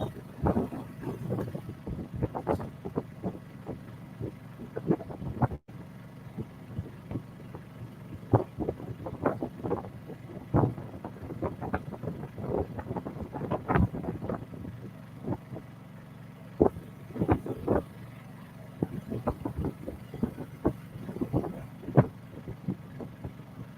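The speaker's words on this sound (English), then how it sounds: "Bit of wind here" Wind buffeting a microphone on a boat getting underway, a steady low rumble with irregular gusty thumps and bursts throughout, fairly loud and continuous with no talking.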